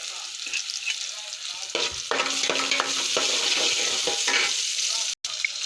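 Chopped onion and cumin seeds frying in a generous amount of oil in a pot, a steady, close sizzle that swells louder partway through, with a few stirring scrapes and a brief cut near the end, no voices.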